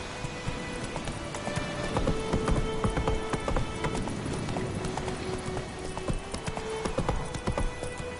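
Roach, a horse in The Witcher 3 video game, trots with steady clip-clop hooves throughout, close and clear over a dense ambient game background.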